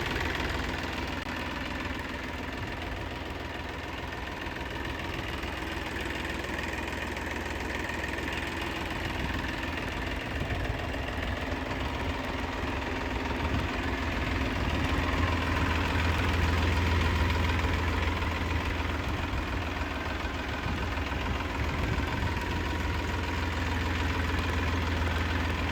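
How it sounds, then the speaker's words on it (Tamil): A used Indian farm tractor, such as a Mahindra, Swaraj, Eicher or Powertrac diesel, idles close by with a steady low knocking chug. It runs continuously and fairly loudly, with no speech over it. "டிராக்டர்"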